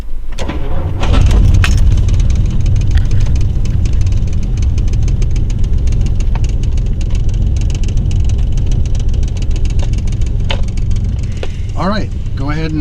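A 1957 Rolls-Royce Silver Cloud engine runs loud and steady at close range, a continuous mid-pitched rumble that holds throughout, with a voice briefly at the end.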